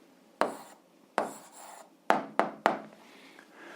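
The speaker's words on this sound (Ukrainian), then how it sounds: "Записуємо відповідь, пишемо відповідь." Pen or pencil writing an algebra answer by hand on paper: about five quick, close scratchy strokes in irregular bursts, each fading out, with no talking.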